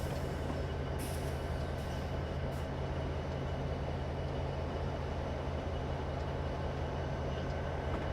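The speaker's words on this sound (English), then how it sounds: "Oh, that's a lot of cars going by." Train cars rolling past in Train Simulator 2015 on Stevens Pass behind an NS SD70M-2, a steady low rumble and hum holding level throughout with faint hissing above, no talk.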